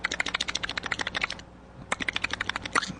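A voice mimics a strange rapid clicking noise heard at night, producing two dense bursts of evenly spaced, fast clicks separated by a short pause, close and moderately loud.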